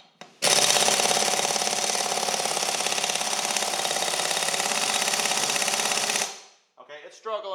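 Urceri compact impact wrench struggling on a bolt, a loud continuous rapid hammering rattle for about six seconds that then cuts off, followed by brief talking.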